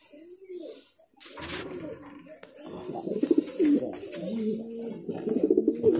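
Homer pigeons in a loft cooing in soft repeated throaty phrases, close and fairly quiet, several birds overlapping with brief rustles between calls.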